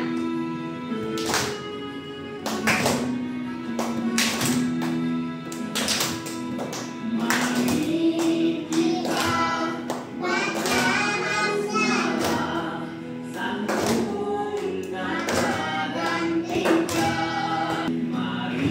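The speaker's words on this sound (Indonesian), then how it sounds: "Boleh tepuk tangannya?" Schoolchildren in a classroom clap their hands in a steady rhythm while singing a religious song together, the sharp claps ringing out over the singing voices.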